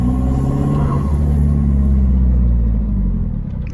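A car exhaust revs loud and close after a throttle controller install, a steady deep engine rumble swelling slightly mid-clip and easing off toward the end.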